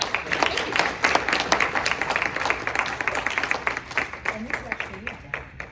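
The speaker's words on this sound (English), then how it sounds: "please join me in another round of applause for Sara Cohen, Deputy Ambassador" Applause from a conference audience honouring a deputy ambassador at an event on Canada–Alaska Arctic relations, steady dense clapping throughout with voices talking over it near the end.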